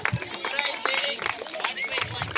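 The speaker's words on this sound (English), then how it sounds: "So give a good round of applause for Ugra." Applause from an audience at a school inter-house quiz competition, scattered claps mixed with crowd chatter and voices throughout.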